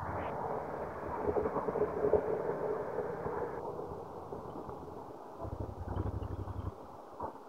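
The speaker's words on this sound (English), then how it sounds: "There's the train." Bangkok Express train passing nearby, a broad rumbling roar with wind buffeting the microphone, fading and shifting as the cars go by, with no talking.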